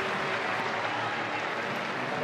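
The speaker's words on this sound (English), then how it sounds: "Ladies and gentlemen, a big round of applause for this young Aussie, Alex de Minaur." Crowd applause for Australian tennis player Alex de Minaur after a United Cup quarterfinal match, a dense, steady wash of clapping filling the whole moment at close range.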